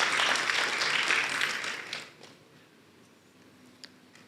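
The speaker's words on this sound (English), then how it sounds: "You can clap." Applause from a church congregation during a sermon, a dense wash of clapping for about two seconds that quickly fades into quiet room tone with an isolated tap afterward.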